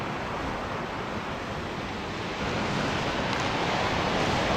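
Storm surge water from Hurricane Sandy washing over the edges of lower Manhattan, a steady, loud roar of surf and wind noise that holds constant and swells slightly in the second half, with no voices.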